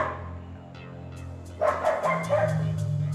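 A dog barks in an airport kennel, with several sharp, close barks in a quick burst in the second half after a quieter start with low background hum.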